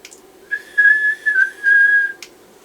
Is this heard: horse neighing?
no